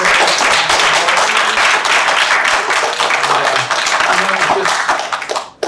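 Applause from an audience at an open poetry and fiction reading, a dense, steady clapping that fills the room for several seconds before tapering off at the end, with some voices mixed in.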